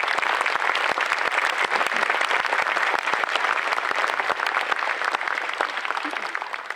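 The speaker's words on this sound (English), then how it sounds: "So please give them a round of applause for their support." An audience at a university press conference introducing a new head football coach gives a round of applause, crisp individual claps audible within a steady, lively patter that carries throughout and tapers slightly at the close.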